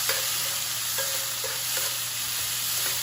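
Gulf shrimp sizzling in a hot pan, a steady broadband frying hiss with a few light scrapes of stirring, close and continuous with no talking.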